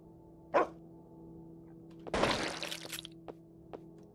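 A dog in a video game giving a single sharp bark, followed by a louder clattering, breaking burst and a few faint ticks against a quiet hum.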